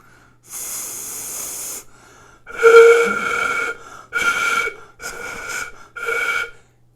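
Several breathy, airy notes on a transverse flute, blown by a beginner, sound in separate bursts, the tone hissy and unfocused, with short pauses between attempts; no talking.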